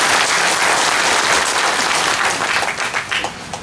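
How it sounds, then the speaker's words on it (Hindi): A crowd at a regional political party gathering breaks into sustained, loud applause that fills the whole stretch and begins to thin out near the end. "थोड़ा अनिमेश के लिए भी ताली मार दो,"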